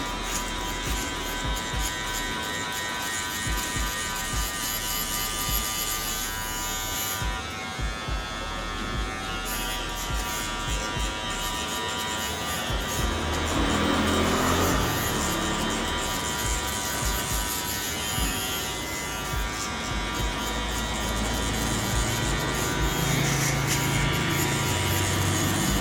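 Electric hair clippers buzz steadily and close up while cutting a mid fade haircut, the motor tone wavering slightly as the blades move through the hair, with no talking.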